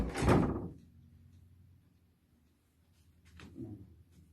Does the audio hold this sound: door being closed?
yes